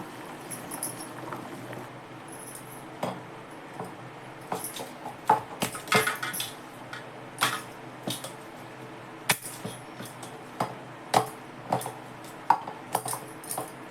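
A knife chops food finely on a board in a home kitchen, making a long run of quick, uneven taps and clicks at close range over a quiet background.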